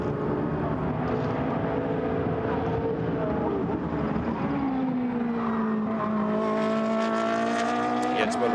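A Blancpain GT Sports Club race car at Paul Ricard in 2019 crossing the finish line, engine roaring loud and close with pitch shifting as it passes, under a commentator's voice.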